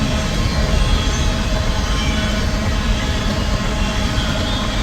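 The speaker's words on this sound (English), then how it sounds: "Here comes our rear DPU." A freight train rolls past at Pacific Junction, Iowa, with its rear DPU locomotives. The rumbling, clattering roar is loud and close and holds steady throughout.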